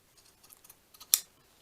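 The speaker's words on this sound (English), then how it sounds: "I need to trim this off." Scissors trimming paper with a few faint quiet snips, then one sharp, louder cut, close up with no talk.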